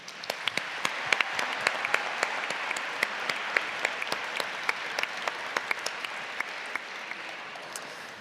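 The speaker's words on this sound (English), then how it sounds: "please give yourself a huge round of applause" A large audience at the GeMUN 2024 Model United Nations opening ceremony applauds steadily, a dense, even wash of many hands clapping with a few sharper claps standing out, moderately distant and sustained with no talk.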